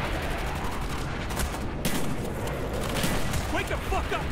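Call of Duty: Black Ops gunfire: dense, continuous bursts of automatic weapons and explosions fill the scene loudly, with no pause in the racket.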